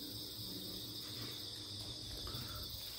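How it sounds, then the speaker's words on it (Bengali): Crickets chirp in a dense, steady, unbroken trill at dawn in hilly Sajek, with faint light wind and a low ambient rumble beneath; no one speaks. "ঝিঝি পোকার ডাক, হালকা বাতাস,"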